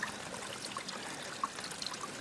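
A woodland stream runs and ripples steadily at a soft, low level, with small bright bubbling plinks scattered through a continuous gentle wash.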